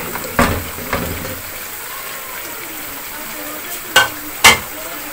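Green chillies and spices hit hot oil in a pan for chicken liver masala, giving a steady close sizzle with a few sharp crackling bursts and stirring knocks, and a voice talks briefly over it.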